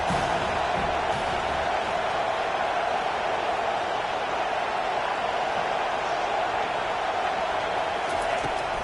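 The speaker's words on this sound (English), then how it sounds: "This crowd trying to make life miserable for this offense." Stadium crowd noise from a Madden football video game: a steady, dense roar of a large crowd sustained throughout, loud and even with no clear breaks or distinct voices.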